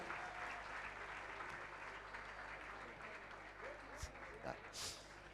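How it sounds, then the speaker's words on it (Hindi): Faint, steady audience applause at a gathering honouring a mother, continuous dense clapping from a distance with a couple of sharper bursts near the end. "दोनों हाथ ऊपर करके जोरदार तालियां बजाकर इसका अभिवादन करना"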